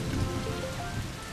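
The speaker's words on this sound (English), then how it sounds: "It's raining in the playground." Steady rain pours down on a hard surface, a dense, continuous patter of drops with no voices.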